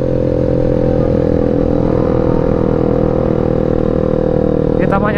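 A motorcycle rides through the night on New Year's, its engine holding a loud, steady drone up close the whole time, with a brief chirp near the end.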